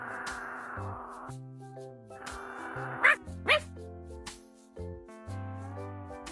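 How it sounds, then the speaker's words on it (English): A cartoon dog barks angrily, a couple of sharp yelps over a playful musical background with short pauses between phrases. "Reggie feels disappointed and barks in anger."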